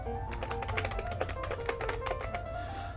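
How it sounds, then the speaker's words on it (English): Rapid, steady clicking of typing on a computer keyboard, a continuous run of close key taps over a faint background hum. "just type it in"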